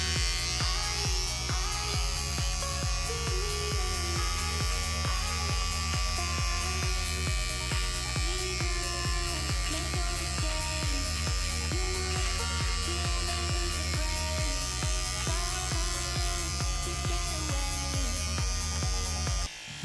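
A Braun PT 5010 electric hair trimmer running continuously with a steady, rapid mechanical buzz and hum, held close and fairly quiet, unbroken for about twenty seconds with no talking.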